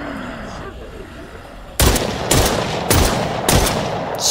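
Gunfire in the video game Hopeland: four sharp, loud shots at an even rhythm about half a second apart, each standing out over a steady low background.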